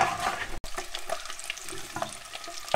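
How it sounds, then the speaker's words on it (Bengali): Eggs fry in hot oil in a pan, a close, steady sizzle with stirring scrapes throughout and a brief break early on. "ডিমগুলোকে একটু লাল করে ভেজে নিই"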